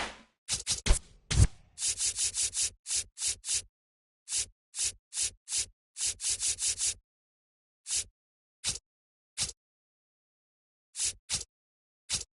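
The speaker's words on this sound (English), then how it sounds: "Scuffing it up." A baseball being scuffed up in the MLB The Show video game: clusters of short, dry rubbing strokes, close and crisp, come in quick runs and then thin out to occasional single scrapes.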